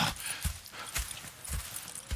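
Horse hooves in the Red Dead Redemption 2 video game, thudding in a slow, even walking rhythm at moderate distance over a soft outdoor ambience.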